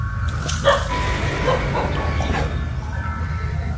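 Dog barking and yipping nearby, a few short sharp barks early on over steady background noise, then quieter whimpering sounds.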